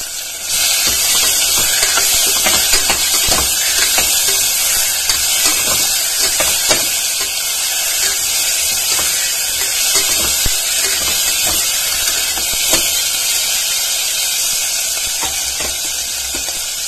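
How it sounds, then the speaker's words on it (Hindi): Chopped bottle gourd and other vegetables tipped into hot oil tempering for a dhaba-style sabzi, giving a loud, continuous hissing sizzle with scattered crackles and pops, close by and with no talking. "जैसे ही तड़का थोड़ा भून जाता है तो इसमें सारी सब्जियों को हम डाल देंगे"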